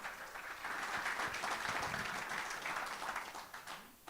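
A live audience at a music show gives steady applause, a dense wash of clapping that holds for several seconds before easing off. It welcomes a singer onto the stage.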